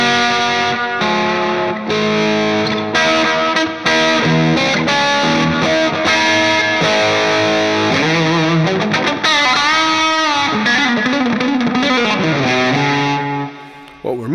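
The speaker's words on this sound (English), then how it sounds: "the reverb is, again, after the Sparkle Drive mod" Loud distorted electric guitar playing chords and bends, thick with chorus-like shimmer and a long plate reverb tail, continuous throughout.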